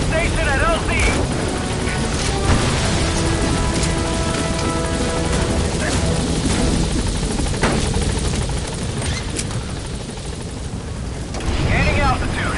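A helicopter in Metal Gear Solid 5 comes in to land at a landing zone, its rotor roar loud and sustained, with the game's music and radio-style voices layered over it.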